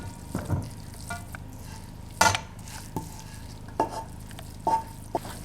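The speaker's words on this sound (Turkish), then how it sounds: "Üzerine 3 diş sarımsak rendesi ve bir miktar tuz ilave edip karıştırıyorum." A yogurt carrot salad with grated garlic and salt is stirred in a bowl, giving soft, irregular scrapes and taps, with one louder clatter near the middle and a steady low hiss behind it.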